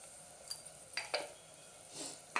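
Spiced khichdi in a pot, seasoned with coriander-cumin powder, turmeric and salt, being stirred: a few soft scrapes and clinks of a spoon against the pot, faint and close, over quiet background hiss.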